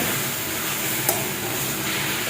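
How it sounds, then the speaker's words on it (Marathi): Methi bhaji with dal is stirred and sautéed in a pan, a steady, close scraping and sizzling hiss with one brief clink of a spoon against the pan. "आता भाजी आपण परतून घेऊ"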